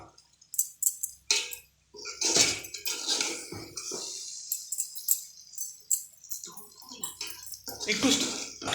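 A lid clanks onto a pot of chicken biryani with a few metallic clatters, while a person talks over the kitchen sounds.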